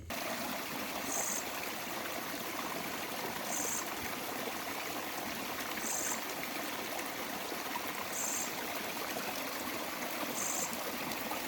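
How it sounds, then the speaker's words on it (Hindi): Glacier-fed stream water rushes steadily under a bridge at Badrinath at night: a constant close hiss of flowing water, with faint high chirps repeating every couple of seconds. "नीचे पानी जा रहा है"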